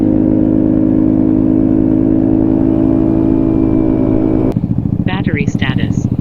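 A Vespa Sprint 150 scooter engine fitted with a new exhaust runs loud and steady close up, a continuous droning idle-to-rev tone that drops and turns pulsing near the end, with a few sharp squeaky sounds over it.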